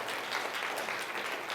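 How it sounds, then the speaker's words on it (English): Lecture audience clapping briefly, a soft even wash of many hands at moderate distance lasting under two seconds with no speech. "You can clap if you want"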